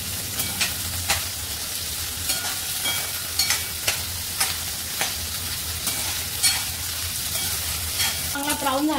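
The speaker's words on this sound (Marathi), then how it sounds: "सेम तेलामध्ये आपण फ्लावर पण भाजून घेऊया" Cauliflower pieces fry in hot oil, a loud continuous sizzle close up, broken by periodic scraping stirs of a spoon in the pan.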